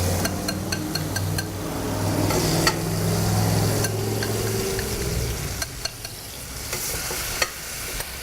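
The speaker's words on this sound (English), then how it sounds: "Listen to something fry." Food frying and sizzling in a pan at a farmers market cooking demo, a steady crackling hiss with some stirring, loud and close, while low hum fades partway through.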